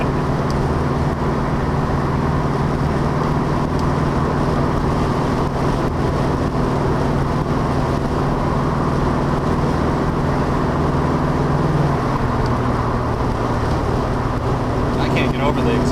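Steady low exhaust rumble of a 1973 numbers-matching Plymouth Cuda with a 340 cubic inch V8 while driving, continuous and fairly loud with road noise, a slight shift in tone near the end.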